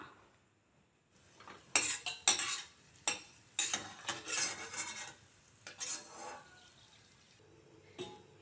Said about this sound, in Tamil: இதில் ஒரு அஞ்சாறு முந்திரி பருப்பு சேர்த்து வறுத்து எடுத்துடலாம்